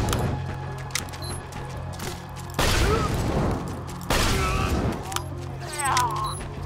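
Gunfire from the video game Borderlands 2 bursts out in loud, dense volleys over steady game ambience. The shots come in two clusters, each lasting over a second.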